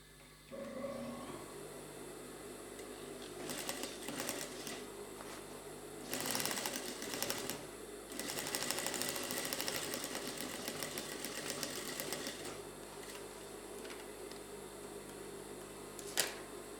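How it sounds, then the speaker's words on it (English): A sewing machine stitches along the side of a trouser pocket in steady bursts of whirring, with short pauses between runs and a soft mechanical hum beneath, fairly quiet and close. "I'll turn it over like this and stitch."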